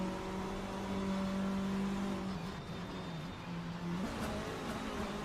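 TCR touring race cars battling at Road Atlanta during a CMRSC sprint race, engines droning steadily nearby with rising and falling pitch as they accelerate and shift, one strong tone dipping then climbing again.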